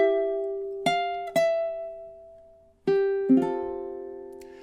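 Plucked ukulele notes and chords from measure 36 of a song, four distinct attacks ringing clearly with gentle decay, played alone with no talk.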